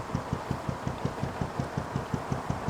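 Engine of the narrowboat Aslan on the Lancaster Canal chugs at idle in a steady, thumping rhythm like a kick drum, with even beats about six per second, close and moderately loud.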